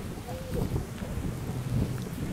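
Steady rain falls outdoors at a roadside protest convoy gathering in Canberra, with low rumbling thunder beneath a continuous wash of drops, fairly loud and unbroken.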